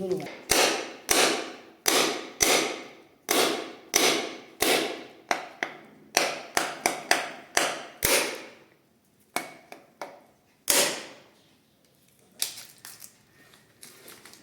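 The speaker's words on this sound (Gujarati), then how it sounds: "અત્યારે વધારવાનું છે જલારામ બાપાનું શ્રીફળ. તો હાલો વધારી નાખીએ." A coconut is struck to crack it open as an offering to Jalaram Bapa, giving a close, loud series of about a dozen sharp knocks. Quick clustered strikes follow, then sparser, softer taps trail off.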